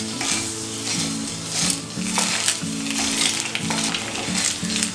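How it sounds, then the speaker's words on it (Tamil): Eggs fry in a pan until golden on top for a spicy Tamil egg varuval, a steady sizzle carrying underneath a repeating mid-pitched patterned hum, with stirring and scraping accents throughout, fairly loud and no talking. "இது நம்ம இந்த முட்டையோட மேல் பகுதி நல்ல கோல்டன் கலர்ல வர்ற வரைக்கும் இப்படி வறுத்து விட்டுருவோம்"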